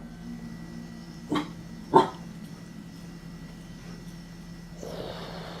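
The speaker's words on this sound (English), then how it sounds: "What are you barking at?" Two sharp dog barks about half a second apart, fairly close, followed by quiet room noise and a soft rustle.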